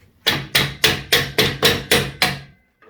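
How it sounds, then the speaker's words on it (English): A hammer taps a tube out of a Suzuki DR200 motorcycle swing arm during a bearing replacement, striking seven loud, evenly spaced metallic blows close by, then a faint clink after a short pause. "We're just going to tap that tube out now"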